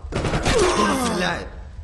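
A rapid burst of gunfire in the video game CounterSpy crackles for over a second, dense and loud, then cuts off abruptly.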